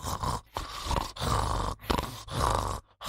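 A voice imitates snoring with a rough, guttural rasp to demonstrate the Arabic letter kha, given as several loud, breathy bursts separated by short pauses, close and alone.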